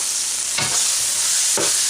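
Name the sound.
asafoetida added to sizzling oil while tempering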